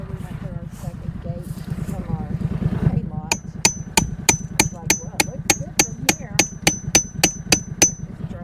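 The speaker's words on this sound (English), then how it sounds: "Let me get the hammer and drive that in a little bit." A hammer drives in part of a farm fence, about fifteen sharp, evenly spaced metallic strikes in the second half, heard after someone talks over a low engine rumble.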